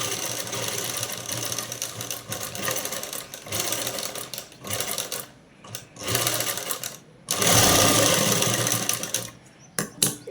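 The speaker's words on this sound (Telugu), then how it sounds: "అదే కుట్టు మీద కుట్టు రావాలి" A sewing machine runs in repeated close bursts, stitching over an earlier seam on a jeans collar neck, with short pauses between runs and a longer, louder run near the end.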